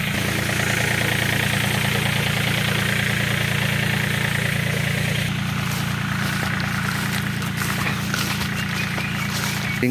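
A tractor-driven Mitra blower sprayer runs in an orange orchard, a loud steady engine drone with a low hum and a constant airy rush that shifts slightly partway through, close and continuous without speech.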